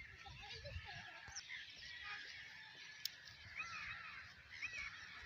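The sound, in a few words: birds calling, crows cawing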